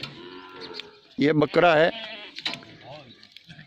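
A Bikaner-breed billy goat bleats twice in close succession, loud and wavering, while someone talks nearby.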